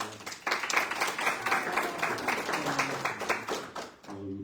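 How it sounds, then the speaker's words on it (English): Gallery audience at a panel discussion greets an artist with applause, a dense burst of clapping rising quickly, holding for about four seconds, then fading as a voice resumes. "so can we please give a round of applause?"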